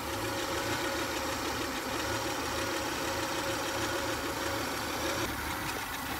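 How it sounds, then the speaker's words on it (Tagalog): A Kia Pride car engine idles low and steady, a close, even mechanical hum with a faint knocking pulse and no voices. "ang baba ng idle niya, binabaan na natin ito"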